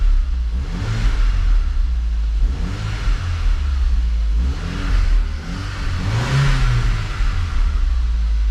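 A Mk1 Audi TT engine revs repeatedly after an exhaust leak repair, with rising and falling bursts over a steady idle rumble, loud and close with no talking.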